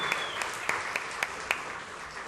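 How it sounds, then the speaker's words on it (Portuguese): Distant, soft applause fills a formal ceremonial session hall, a steady wash of many hands with a few sharper claps standing out at regular intervals. "Uma salva de palmas para o Rio Branco do futuro."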